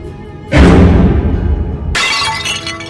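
A loud, close crash of a glass lamp smashing: a heavy impact followed by a spray of tinkling shards that rings out briefly.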